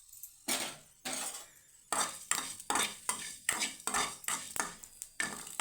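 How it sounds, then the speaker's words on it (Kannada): Green chillies and cumin roasting in a pan, heard as a steady rhythm of close metallic scraping and stirring strokes, about two per second, with a faint sizzle underneath and no voices. "ನೋಡಿ, ಈ ಥರ ಹುರ್ಕೋಬೇಕು ಮೆಣಸಿನ್ಕಾಯಿನ. ಸ್ವಲ್ಪ ಜೀರಿಗೆ ಹಾಕಿದ್ದೀನಿ"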